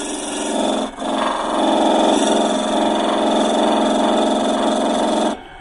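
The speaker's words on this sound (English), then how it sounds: "This is a detailing gouge, so we're going to try a smaller one." A wood lathe spins steadily with a continuous whirring drone while a small detailing gouge cuts grooves into the turning wood, with a brief dip near the start and a clean stop at the end.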